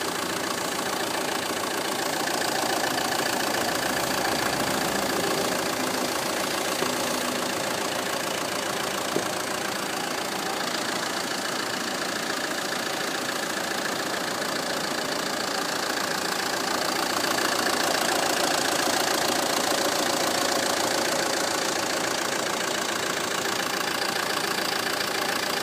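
A Fiat Bravo GT with the 105 hp JTD diesel, at nearly 200,000 km and before any engine treatment, idles steadily throughout, a continuous close diesel clatter with a steady low rumble and no voices.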